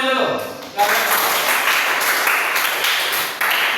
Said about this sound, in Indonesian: Sebelumnya kita berikan aplaus untuk kita semuanya dulu.